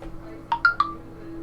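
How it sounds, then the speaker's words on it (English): A mobile phone chimes in a room, with three short bright rising tones in quick succession over a low steady hum, moderately loud and with no talk. "Sorry, that's my phone."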